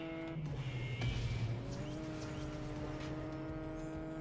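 A car in a racing video game runs steadily along a drift track, its engine note holding a sustained droning tone, briefly rising around the one-second mark, loud and continuous with no talking.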